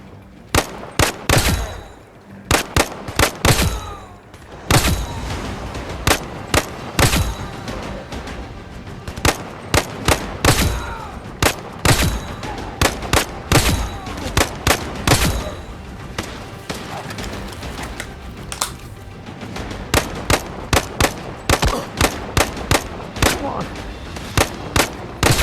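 Rapid, dense gunshots ring out in Zero Caliber Reloaded, a VR first-person shooter played on an Oculus Quest, with bursts and single cracks repeating throughout and a voice talking underneath.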